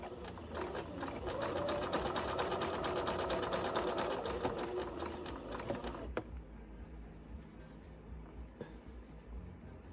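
A sewing machine stitches up the sides of quilt squares cut with AccuQuilt dies, a steady rapid mechanical whir for about six seconds that then stops, leaving quiet room tone.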